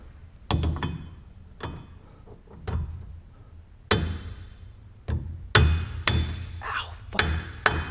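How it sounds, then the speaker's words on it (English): Sharp, ringing hammer blows strike irregularly, about ten hits with pauses between, some metallic and clanging, up close. "Okay, just gonna have to keep hammering away"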